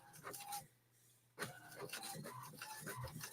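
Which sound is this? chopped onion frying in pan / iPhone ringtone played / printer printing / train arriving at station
printer printing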